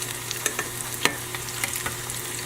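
Okra frying in a hot pan on a stovetop set to high, a continuous close sizzle dotted with sharp pops and spatters.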